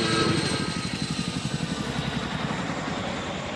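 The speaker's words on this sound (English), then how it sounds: "he's going to taxi out as the Chinook departs" Boeing CH-47 Chinook helicopter departing at an air show, its rotors giving a loud, rapid rhythmic thudding over a broad engine roar that fades slightly as it pulls away.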